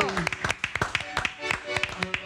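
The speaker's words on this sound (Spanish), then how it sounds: "Lo escuchamos, fuerte el aplauso." A studio audience on a TV variety show claps for a live group, giving scattered, irregular claps with voices talking and calling out over them.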